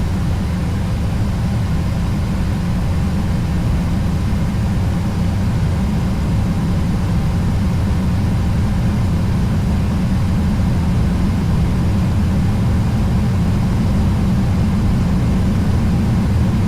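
A Boeing 737 on its takeoff roll in Flight Simulator X, departing Albuquerque: a loud, steady low engine roar that stays constant throughout.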